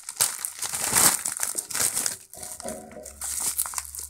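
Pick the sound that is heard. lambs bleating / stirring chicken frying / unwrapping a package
unwrapping a package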